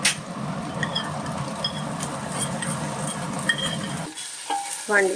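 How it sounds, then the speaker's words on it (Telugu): Green chillies and ginger-garlic paste sizzle steadily in a hot pan while making Andhra-style prawn biryani. The sizzle cuts out partway, then a few close utensil scrapes and stirs follow. "చక్కగా అల్లం వెల్లుల్లి పేస్ట్తో చక్కగా వేగింది."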